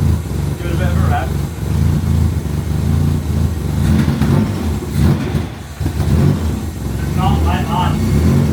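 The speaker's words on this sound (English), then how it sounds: "Give it a bit of a rev." A Mazda MX-5 drift car with a homemade exhaust revs close by, its engine rising and falling in short bursts beneath people talking.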